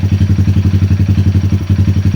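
A 2020 Honda Grom 125cc motorcycle engine idles close by after a fix for bad idle and misfire, putting out a loud, even, rapid thumping pulse with a slight hitch near the end.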